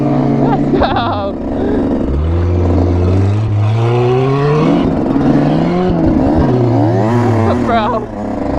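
A rear-wheel drive truck revs and drives around a lot, its engine pitch rising and falling in repeated swells, loud and nearby, with excited voices shouting over it.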